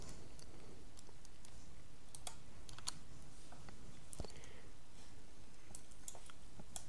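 Typing on a computer keyboard, scattered quiet key clicks and taps at an uneven pace over a steady background hiss.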